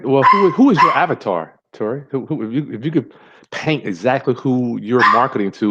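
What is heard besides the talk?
dog barking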